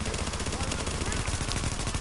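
Rapid automatic gunfire from an extraction-style shooter video game, dense continuous bursts filling the clip at close range, with faint player voices underneath.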